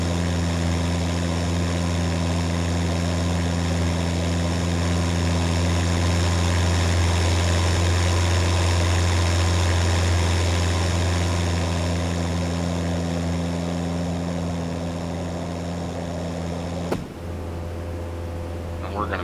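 Piper Cub propeller aircraft taxiing to the FBO after landing, a steady, close engine drone with strong low harmonics throughout that abruptly drops in level near the end; radio talk is heard over it.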